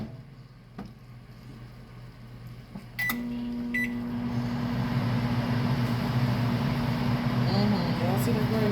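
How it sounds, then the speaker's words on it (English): A microwave oven warming a baked potato: a click and beep at about three seconds, then a steady low mechanical hum that continues to the end with faint chatter in the room. "we're just gonna put that in the microwave and warm it up"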